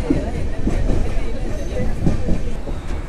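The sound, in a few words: Nellai Express train arriving at Virudhunagar Junction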